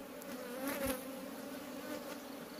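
Honey bees buzz around a beehive on a rural Nepali hillside farm, a steady close droning hum with many overlapping wingbeats, continuous and fairly faint.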